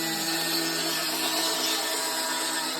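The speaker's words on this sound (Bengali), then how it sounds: "এখানে সেগুনের কাজ হচ্ছে। কাজ হচ্ছে মেশিন দিয়ে" A machine carves teak wood in a furniture workshop, giving a loud, steady broadband whir and grind that runs without a break and with no voices over it.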